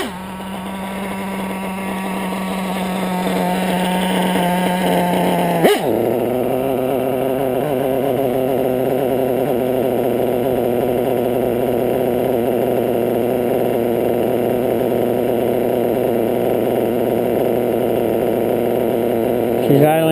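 A modded RC car's LRP .32 nitro engine idles high and rich, a steady loud buzzing drone that holds without break for the full twenty seconds, dipping briefly once near the middle before settling back.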